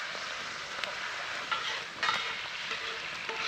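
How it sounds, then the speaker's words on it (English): Beer hits onions cooking directly on hot coals, setting off a loud, bright hissing sizzle that holds steady with a few sharper crackles, close up and with no talking. "So it's time to chuck the beer in"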